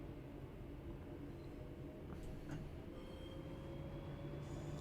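A train rumbles past in Train Sim World 3 on the Glossop Line, a steady low rolling drone of wheels and wagons with faint squeals, continuous and moderately distant.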